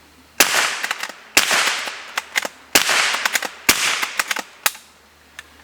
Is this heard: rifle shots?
yes